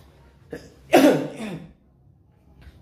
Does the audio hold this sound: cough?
yes